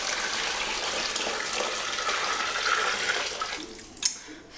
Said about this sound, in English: Okay, our actual floor wash, and just pour it in.